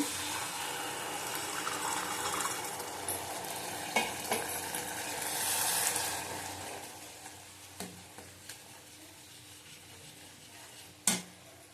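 Water poured into a pan of simmering catla fish curry, a rising hiss and splash around the middle that settles into quieter bubbling, with a few sharp clinks of utensils, close and without speech.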